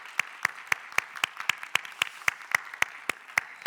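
A church youth congregation claps for its small-group leaders, producing a steady, evenly spaced run of crisp claps at a brisk tempo, moderately close and without talk.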